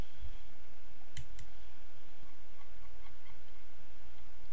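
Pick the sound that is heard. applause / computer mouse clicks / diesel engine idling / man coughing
computer mouse clicks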